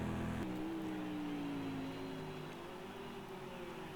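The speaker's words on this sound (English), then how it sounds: "You can hear that car sliding." Racing car in a sim racing game at the Nurburgring, its engine drone holding a steady, slowly falling pitch as it slides through a corner, continuous and fairly close throughout.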